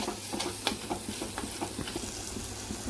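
Cucumber pieces fry in a pan for a prawn curry, a steady close sizzle under repeated scraping stirs that come in a loose, regular rhythm, with no talking.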